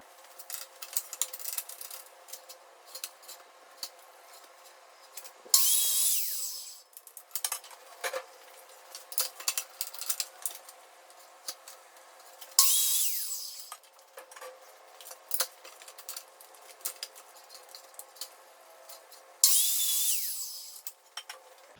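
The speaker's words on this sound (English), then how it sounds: "So I'll cut those next after measuring." A power saw rips through wooden boards for a raised garden bed frame in three short, harsh bursts spaced several seconds apart. Quieter rubbing and handling noises of wood and tools fill the gaps, all fairly faint.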